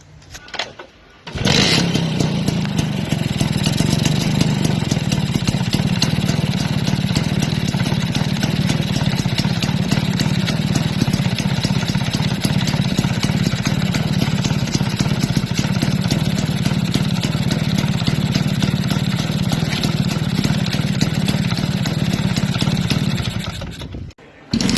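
A small Lambretta vintage scooter engine catches and runs steadily at idle for over twenty seconds, loud and close, with a constant buzzing putter before cutting off.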